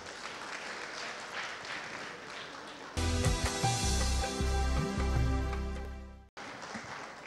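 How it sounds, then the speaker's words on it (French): Audience applause for an all-female film team at a televised evening gala show, a dense, steady clapping wash for about three seconds that gives way to a loud burst of music and then returns to clapping. "On vous demande bien tous de les applaudir très fort."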